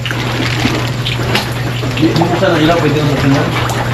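Typhoon Enteng floodwater sloshes and trickles continuously over a steady low hum, with a faint murmur of voices underneath.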